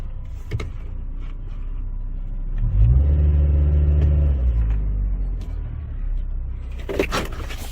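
A 2014 Chevy Spark with transmission faults revs its engine as it is shifted into drive, a loud mid-pitched rise that holds steady for a few seconds before settling back toward idle.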